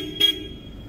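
A single short, sharp toot from an aftermarket supersonic horn fitted to a 2025 Toyota Innova XE, sounding once against a quiet background.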